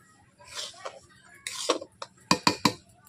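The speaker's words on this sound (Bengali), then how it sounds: "কড়াটাকে নামিয়ে নিচ্ছি কড়াইতে।" A metal kadai is handled in a home kitchen while sooji is cooked for steamed bhapa pitha, giving a few close, sharp clanks and knocks in quick succession after some softer scraping, with a faint voice early on.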